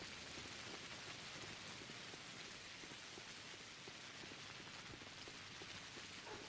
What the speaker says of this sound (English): Right, the rain actually is kind of soothing